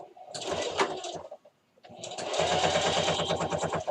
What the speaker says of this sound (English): I'm going to flip it around, and I'm going to do the same thing to the other side, and I'm going to sew down.